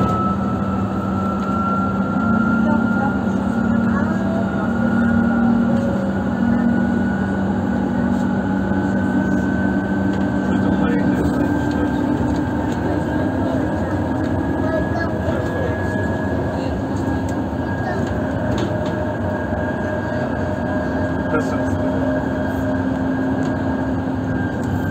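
Interior of a moving electric bus on route 403: a loud, continuous motor whine with gliding tonal pitches and steady road rumble throughout, while a recorded announcement voice speaks over it.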